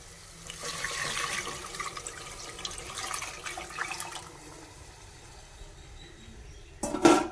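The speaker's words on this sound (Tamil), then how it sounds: "நம்ம கூட்டி வச்சதை ஊற்றிடலாம் இதை ஊற்றிடலாம்" Ground paste is poured into a cooked tomato mixture for fish curry, giving several seconds of soft, watery pouring and sloshing at moderate volume that fades before a brief clatter at the end.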